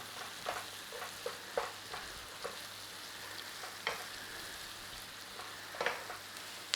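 Onions fry gently in a pan with a soft steady sizzle, punctuated by light scrapes and clicks of stirring, fairly quiet and close with no talking.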